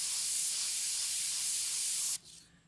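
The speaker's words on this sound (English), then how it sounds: "I'm going to just spray along the paper's edge" A steady, close airbrush hiss of spraying paint along a paper edge while painting hawk feathers, cutting off sharply near the end and leaving a faint softer hiss.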